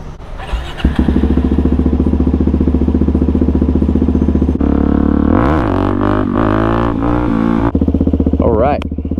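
A Suzuki DRZ400SM single-cylinder motorcycle rumbles loud and close at night, idling and then revving up as the ride begins. Its engine note rises and falls through several throttle blips.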